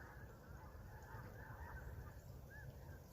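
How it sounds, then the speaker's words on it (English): Distant honking of a gaggle of geese in a field near an overnight campsite, faint repeated calls over a steady low rumble of wind or background noise. "a gaggle of geese landed in that field over there"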